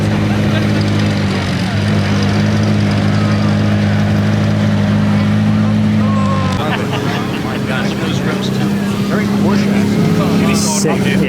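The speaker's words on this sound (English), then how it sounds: "There goes a little bit of driving action for the Senna GTR" A Senna GTR race car at Monterey Car Week holds a steady, loud engine drone that shifts pitch partway through as it moves past, with voices talking over the noise.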